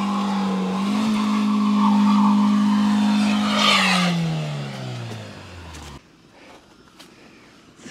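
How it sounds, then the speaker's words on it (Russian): Opel Astra H 1.6 with ESP switched off spinning one wheel and skidding on snow, a loud sustained engine and tire whine rising and falling in pitch before cutting off, followed by quieter background noise. "Крутится только правое колесо."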